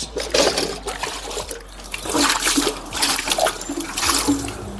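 Aquarium parts are rinsed under flowing water, with a continuous splashing and trickling stream that surges and eases as the pieces move through it, fairly close and with no speech.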